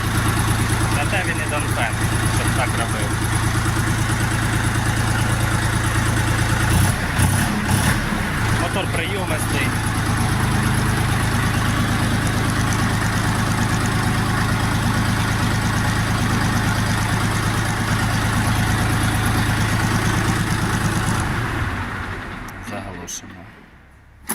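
A Dongfeng DF 244 G2 mini tractor idling on a sales lot in Sumy, a steady low engine hum running close and continuous the whole time, with someone talking over it and a brief rattle partway through.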